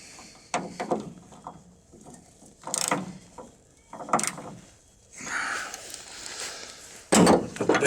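A wrench tightens the tailgate hinge bolts on a Nissan Titan in a few close, separate bursts of ratcheting and metal clicks with quiet pauses between, ending in a sharper clatter.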